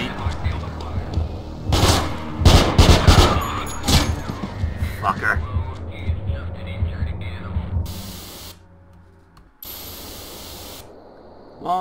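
Gunfire fills a firefight in the Manhunt video game, with loud bursts clustered early and then sparser shots and rumbling, while someone talks over much of it.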